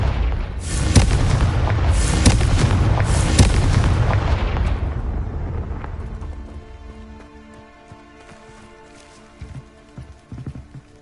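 A fiery Confringo spell in Hogwarts Legacy erupts in a loud, close run of booming explosions with crackling debris, then fades into quieter tonal game sounds and a few soft impacts.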